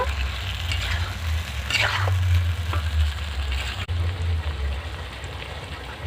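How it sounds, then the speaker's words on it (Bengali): Pieces of shol fish fry with spices in a pan, giving a steady close sizzle under a low rumbling hum, with a few brighter crackles and stirring scrapes along the way. "এবার হালকা করে ভেজে রাখা শোল মাছগুলো দিয়ে দেব। মশলার সাথে ভালো করে কষে নেব।"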